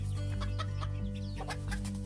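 Chickens cluck close by in a short burst of repeated clucks and squawks over a steady low background hum.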